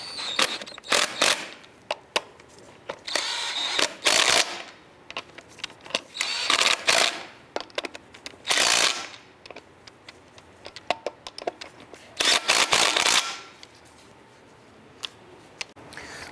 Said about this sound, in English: I'm going to go ahead and snug down the lug nuts.